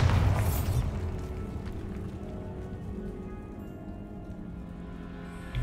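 A Bombarda spell explosion in the video game Hogwarts Legacy bursts with a heavy boom at the start, then fades into a long, low rumbling tail.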